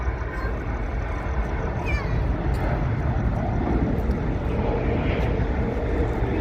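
An airplane taking off at Sydney Airport, a steady loud jet roar heard from the ground and holding through the whole stretch, with faint talk underneath.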